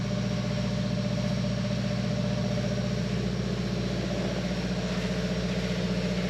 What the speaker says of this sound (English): we've got generator beneath me here, big cooling fans, and the engines under here